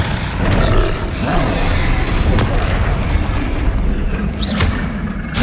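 A Bombarda blasting spell detonating in the Hogwarts Legacy game, a loud booming roar that rumbles on, with sharp crackles and a brief higher whoosh near the end.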